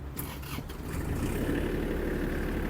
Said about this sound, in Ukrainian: Завівся тракторець.